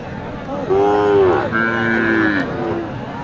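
At a cattle market, a Sahiwal cow gives a loud, close, drawn-out two-part moo over a steady murmur of crowd noise.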